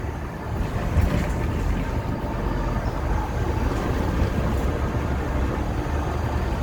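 Steady, loud road and engine rumble inside a 2008 Nova LFS STM city bus on the 201 route in Pierrefonds, Montreal, moving along with continuous low roar and faint rattles, no talking.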